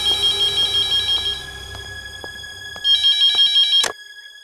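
An electronic phone ring with steady high-pitched harmonic tones, pausing briefly and then resuming, close and clear with no voices.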